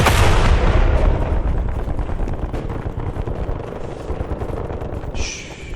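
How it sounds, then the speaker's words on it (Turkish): Heavy rumbling gunfire and explosive blasts fill a Call of Duty Black Ops Cold War battle, loud at the start and easing into a dense, continuing roar of distant firing. "Oo tank var burada kaç kaç."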